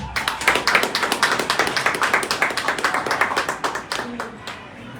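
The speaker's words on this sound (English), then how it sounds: "Let's give the councillors a clap." A parish council declaration ceremony audience claps for newly declared councillors, a close, brisk, evenly paced burst of hand claps that holds steady and then tapers off at the end.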